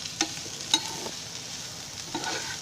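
Thick-cut bitter gourd pieces frying in oil in a pan, a soft continuous sizzle broken by a few sharp stirring clinks and scrapes, close and moderately quiet with no talking.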